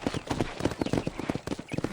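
Horse hooves clip-clop in a steady, quick rhythm of repeated close thuds in Red Dead Redemption, with faint game ambience underneath and no talk.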